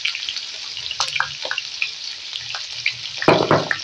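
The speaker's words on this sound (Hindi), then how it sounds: "इसको गर्म करने के बाद हम इसके अंदर प्याज ऐड करेंगे" Chopped onions frying in about half a cup of hot cooking oil for an aloo, matar, carrot and egg curry, a soft continuous sizzle with scattered crackles and a louder burst of stirring toward the end.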